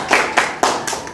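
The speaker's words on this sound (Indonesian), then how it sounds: "Tepuk tangan buat 8G ya" Students in a school classroom clap in four sharp, close hand claps spaced evenly apart, with nothing else heard.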